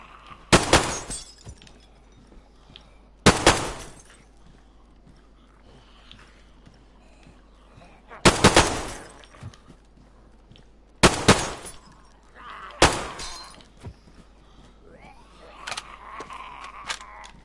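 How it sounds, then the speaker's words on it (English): Single-fire rifle shots in the survival game DayZ: five or six loud, sharp cracks spaced a few seconds apart, each ringing out over quiet outdoor ambience. "I love the sounds of all these guns as well."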